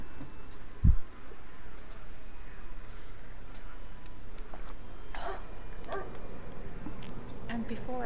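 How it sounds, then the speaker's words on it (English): A dog barks in the video game Lost Alpha, one sharp, close bark near the start, followed by quieter game ambience with faint scattered noises and some speech. "Is that a friendly dog?"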